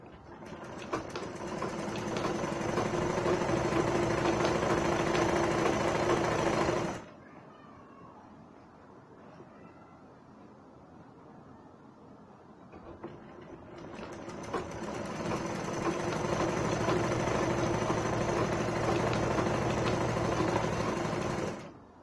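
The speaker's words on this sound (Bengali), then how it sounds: "আমরা পুনরায় ডাবল সেলাই দিয়ে নেব।" A sewing machine double-stitching a gown, whirring loud and steady for several seconds, falling quiet for a few seconds, then running again in a long continuous burst.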